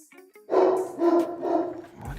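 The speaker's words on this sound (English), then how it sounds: "What is he barking at?" A dog gives a few close, rough barks in a quick run, loud against a quiet room, with no talking.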